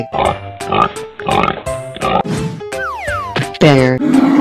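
Cartoonish pig grunts and oinks come in a rapid series of short bursts, followed by a springy boing-like sliding tone and a final squealing burst, all loud and close with no speech.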